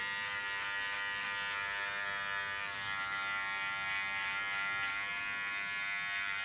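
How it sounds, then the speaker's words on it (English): Electric hair clipper running steadily with a continuous high buzz while cutting and blending hair during a colour-and-cut session, close and unbroken, no talking. "Use my clipper as a comb."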